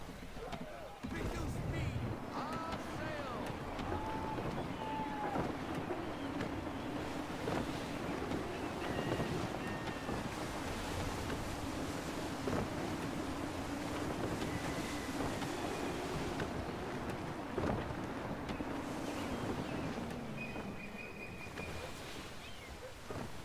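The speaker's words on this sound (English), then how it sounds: "Wind looks to be shifting. Stay alert, Connor. Gusty winds can be difficult to manage" A sailing ship in gusty wind in the video game Assassin's Creed 3. Steady roaring wind and rushing water run throughout, and voices speak over them.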